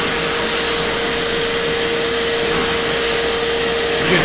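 A small vacuum cleaner runs steadily on a beard, a loud close whine with a constant tone and airy rush, continuous throughout without a break.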